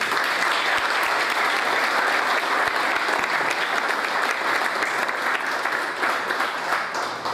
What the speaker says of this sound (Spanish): Quiero pedirles un fuerte aplauso para su presidente municipal.